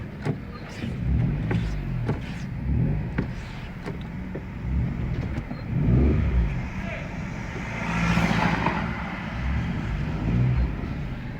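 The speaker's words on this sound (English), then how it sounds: "wait for this motor vehicle to pass us" A motor vehicle drives past on a road, a low rumble that swells and fades, heard beside a parked car while someone talks throughout.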